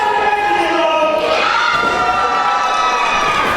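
A wrestling crowd at a live tag team match cheers and shouts loudly and steadily, a dense roar of many voices with children's shrill yells mixed in, close and continuous throughout.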